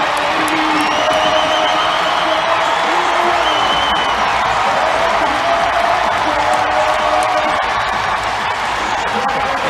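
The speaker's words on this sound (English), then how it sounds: "Thunderous applause for Silas All Red." Crowd in an arena at a men's college wrestling dual between Ohio State and Nebraska roars with steady applause, cheers and whoops, a loud continuous wall of noise throughout.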